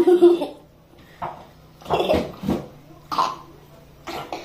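Several separate harsh coughs and throat-clearing bursts come close to the microphone, spaced out with short quiet pauses between them.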